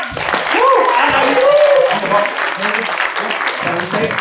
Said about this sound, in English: Round of applause for Max.